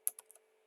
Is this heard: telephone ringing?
no